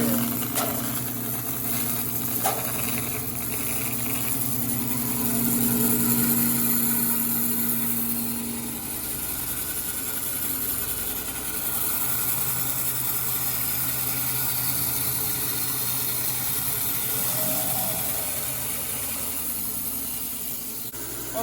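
A power saw cuts sapele wood for a knife handle in a workshop: a steady whining motor drone holds for about twenty seconds with a brief pitched cutting tone early on, loud and continuous, with no talk.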